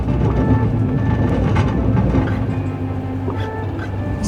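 Passenger train riding on rails, heard from inside the carriage on a multi-country European rail trip: a steady, loud rumble of wheels with faint rhythmic clatter throughout.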